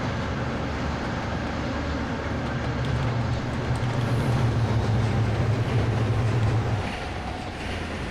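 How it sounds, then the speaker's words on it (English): A train rolls past in the railway simulator game Trainz, a steady mechanical rumble that swells to a peak and then eases off, with no other sound. "Oh, we've got another train!"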